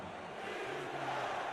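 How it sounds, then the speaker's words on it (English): A football stadium crowd in Raleigh stands and roars to rally its defense, a steady, distant wash of cheering noise. "Crowd here in Raleigh on their feet"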